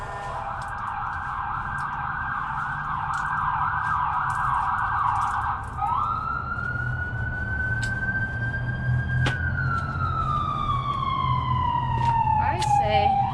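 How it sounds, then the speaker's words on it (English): Emergency sirens wail loudly, a rapid yelp shifting into a long rising and falling tone that sweeps slowly over ongoing background noise. "Sorry for the sirens"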